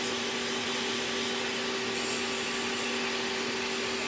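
A nail drill fitted with a zebra sanding band on a standard mandrel files gel nails, giving a steady, continuous high whirring buzz with a gritty rubbing edge that runs without a break, close and loud.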